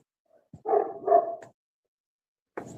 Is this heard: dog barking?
yes